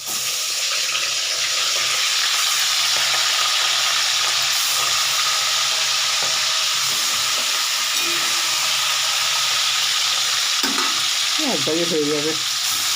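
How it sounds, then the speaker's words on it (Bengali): Pieces of rohu fish fry in a pan with a loud, continuous, even sizzle, and someone speaks briefly near the end. "বাকি মাছগুলো আমি ভেজে নিচ্ছি"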